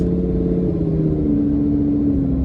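Inside a 2015 Lamborghini Huracan LP610-4 on a test drive, the engine gives a loud, steady low rumble whose drone shifts slightly in pitch as it pulls, with no talking.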